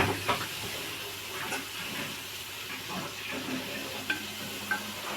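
Tomatoes stirred in a frying pan for beef curry, a soft steady sizzle with scraping strokes of the spoon and a few sharp clinks against the pan, no talk.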